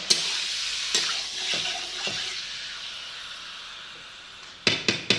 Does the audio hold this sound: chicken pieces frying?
yes